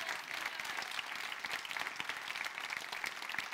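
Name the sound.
church congregation applauding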